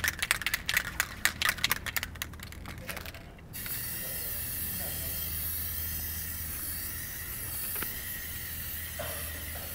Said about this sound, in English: So now I'm going to put my first coat of Plasti Dip spray on here,